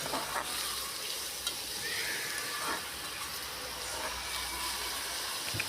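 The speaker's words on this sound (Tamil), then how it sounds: "இதை அப்படியே மிக்ஸ் பண்ணி விட்டுடலாங்க." Goat spleen frying with onions and curry leaves in a pan crackles and hisses steadily while being stirred, a close, even sizzle with faint scraping movements and no talk.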